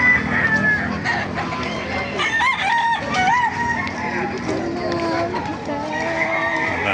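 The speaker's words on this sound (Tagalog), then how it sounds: "Ayan na, mga manok sa Baliwag." Roosters crow repeatedly among clucking chickens at a busy poultry market in Baliwag, Bulacan, with people talking in the background throughout.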